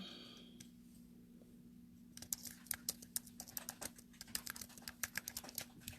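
Someone types on a computer keyboard, and after a couple of seconds of near silence a rapid, uneven run of crisp key clicks follows, close and fairly quiet.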